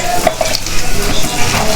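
Food crackling crisp in hot oil in a home kitchen, a steady close sizzle with a few clinks of a utensil against the pan throughout the short stretch.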